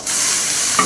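Potatoes tumble into a large cooking pot of hot oil, setting off a sudden loud, dense sizzle that holds steady and close for a brief moment.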